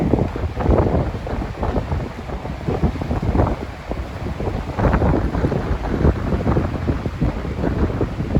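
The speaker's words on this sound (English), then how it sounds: "it's so windy today" Heavy, continuous wind buffeting the microphone, a loud rumbling roar with gusty surges and no voices.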